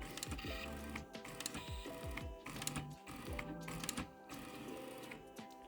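A Creality Hi Combo 3D printer running input shaping calibration buzzes and chirps through a rapid series of vibrating tones and rattles, mechanical and continuous, with no talking.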